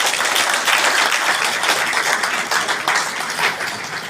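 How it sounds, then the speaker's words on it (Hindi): Audience applause in a hall, dense and steady clapping from a large crowd that holds strong for about four seconds before easing slightly at the end, with no voices over it. "उसके लिए एक बार जरूर तालियां बजाइए।"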